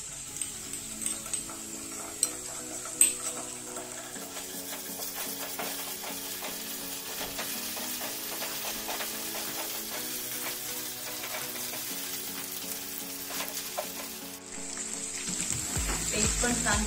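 Ginger, garlic and green chilli paste frying with onion in oil for Kolhapuri misal: a soft, continuous sizzle under repeated light spatula scrapes and taps, fading briefly near the end before the hiss returns.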